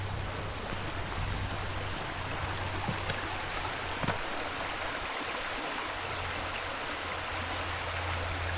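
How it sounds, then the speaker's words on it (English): Hemlock Creek flowing beside a wooded trail in Birchwood, Wisconsin, a constant broad rushing wash heard from nearby with no break, plus a faint low hum. "I hear water."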